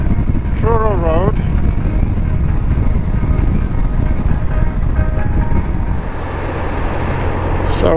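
A bike ride along a back road sends a loud, continuous engine and wind roar through the whole stretch. A brief warbling tone rises over it early on, and a voice speaks beneath the noise.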